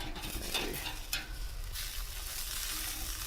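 Brick-weighted chicken sizzling on a Pit Barrel Cooker, a steady close hiss of frying fat with a couple of scraping, clattering moments as pieces are turned over.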